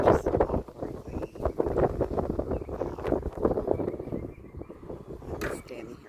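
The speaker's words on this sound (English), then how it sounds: "Oh my goodness, the wind is crazy." Strong gusting wind on a sunny day buffets the microphone with a constant low roaring rumble, rising and falling in gusts, while a person talks over it.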